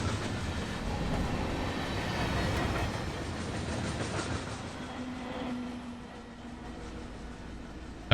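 Railroad cars rolling past at close range, a steady broadband rumble with faint wheel clatter that eases slightly toward the end, with no voices.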